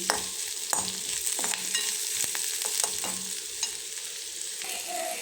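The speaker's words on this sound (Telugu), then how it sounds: "చూడండి, ఇప్పుడు ఆనియన్స్ బాగా వేగాయి కదా." Thinly sliced onions fry in a pan while a spoon stirs them, sharp scraping strokes repeating over a steady, moderate sizzle, close and without speech.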